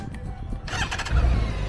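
A used motorcycle engine cranks briefly, then catches and starts, settling into a low, steady idle rumble, close and fairly loud.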